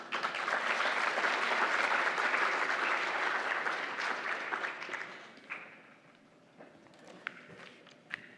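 A dense burst of audience applause at the 2019 Golden Apple Awards in the Cayman Islands, loud and sustained for several seconds before thinning out to scattered claps and footsteps.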